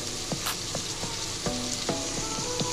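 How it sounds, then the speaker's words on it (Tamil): Ground coconut being stirred into sautéed vegetables in a pan for sambar rice, a steady sizzle punctuated by repeated light scraping taps of a spoon against the pan at an uneven rhythm. "தேங்காய் சேர்த்ததுக்கப்புறம் நம்ம நல்லா மிக்ஸ் பண்ணிக்கலாம்."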